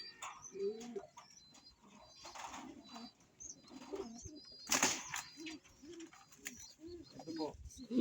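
Racing pigeons coo in a breeder's loft, with repeated low, throaty calls from several birds close by, a brief burst of louder fluttering midway, and a faint voice in the background.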